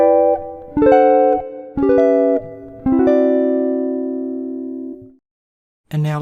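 Jazz guitar chord melody phrase with scalewise approach notes: three plucked chords in quick succession, the last one left ringing for about two seconds before fading out, with a brief strum at the very end, played alone without speech.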